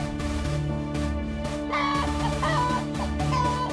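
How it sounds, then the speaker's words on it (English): Cartoon hens clucking in a steady, busy chorus, loud and close, with repeated rhythmic clucks layered over one another and no talk. "Suddenly, they heard the hens clucking."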